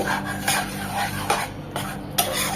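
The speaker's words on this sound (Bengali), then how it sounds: "ময়দাটা এক মিনিট এই বাটারের সাথে ভেজে নেবো" Flour being fried in butter in a pan while a utensil scrapes and stirs it, with several distinct rasping strokes at an uneven rhythm over a low steady background hum.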